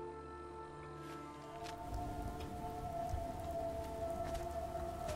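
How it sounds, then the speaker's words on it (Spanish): Radioactive rain falls steadily in the video game Fallout 4, added by a mod. Dense hissing rain patters and swells under a faint, sustained siren-like tone and a low rumble. "Hay lluvia radiactiva, ¿vale? Es un mod que he puesto."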